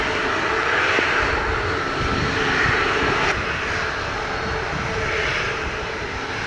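An airplane takes off from runway 07 at Montego Bay airport in Jamaica. It gives a loud, steady engine roar that holds unbroken and close throughout, with a broad rushing texture.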